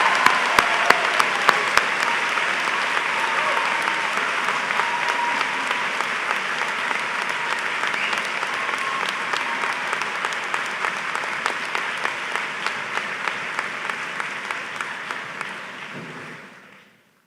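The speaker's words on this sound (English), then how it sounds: "Let's please applaud those graduating with honors from the class of 2026." Commencement audience at a high school graduation ceremony applauding honors graduates of the class of 2026: steady, dense clapping from a large crowd that holds evenly for about sixteen seconds before fading out, with no talking.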